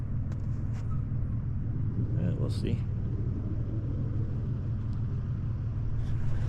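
A Sunrader truck camper rumbles steadily as it climbs a mountain road toward snow, the low engine and road drone constant beneath brief talk inside the cab.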